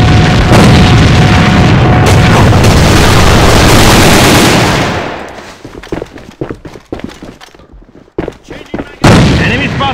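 Grenade explosion and gunfire in the shooter AvA on the E-Boat map: a loud, sustained boom fills the first half, then a scatter of sharp gunshots with radio-style voice callouts.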